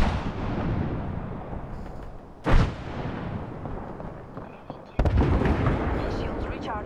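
A grenade in the video game Apex Legends goes off amid constant game noise, giving one sharp blast and later a second loud burst of crackling debris.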